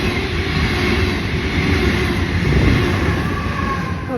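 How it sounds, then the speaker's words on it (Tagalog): A passing train rumbles loud and close in a steady, dense roar of rolling wheels and rail noise that swells slightly midway, with no talking. "Dadaan po ang train na yun."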